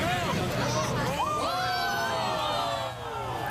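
Large crowd gathered around an ice sculpture in Toronto, a loud continuous babble of shouting and cheering voices with rising yells, dense and close throughout.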